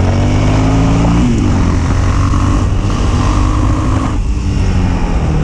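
A Yamaha XTX 660 single-cylinder motorcycle pulls away from low speed as the throttle opens, its loud engine note rising in pitch in a steady climb, close and continuous with wind rush and no talk.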